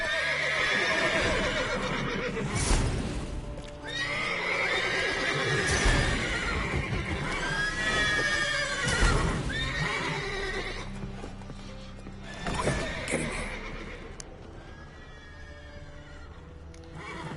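Horses neigh and whinny repeatedly in the video game The Witcher 3: Wild Hunt, loud and close, with hooves clip-clopping between the calls.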